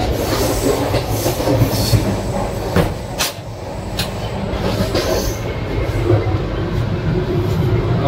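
The Gondwana Express passenger train runs along Indian railway tracks, heard from inside a carriage as a loud, continuous rumble with rattling clatter and wheel noise throughout.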